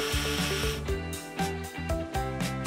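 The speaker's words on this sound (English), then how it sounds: "The boards must be secured! A screwdriver can handle it!" A screwdriver, likely powered, drives screws into wooden boards inside a trailer, giving repeated whirring bursts with rising pitch, close and loud, with no talking.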